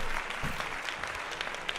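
A short burst of steady applause from a small crowd, dense clapping that holds at an even level throughout.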